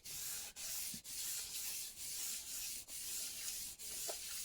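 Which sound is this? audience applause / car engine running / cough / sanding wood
sanding wood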